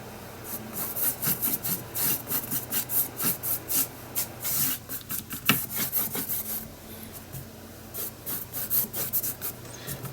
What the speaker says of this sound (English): Just again crossing with vertical and horizontal brush strokes.